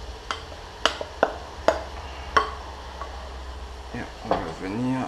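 Beef stroganoff with onions, mushrooms, gherkins and a tomato and white wine mixture being stirred in a pan, giving a series of sharp utensil clinks and scrapes against the pan followed by softer stirring and a gentle sizzle.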